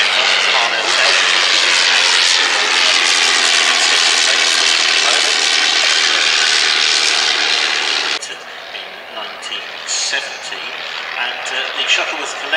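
The engine of a 1918 Bristol F2B biplane with a large wooden propeller roars loudly and steadily at an airfield display, then drops abruptly to a quieter running level, with someone talking over it.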